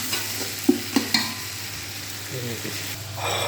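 Tomatoes sizzle steadily while frying in a pan for Kashmiri chicken pulao, with a few sharp scrapes and taps of a stirring spoon against the pan near the start.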